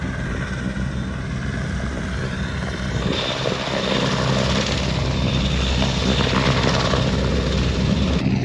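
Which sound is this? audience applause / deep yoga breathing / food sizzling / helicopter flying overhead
helicopter flying overhead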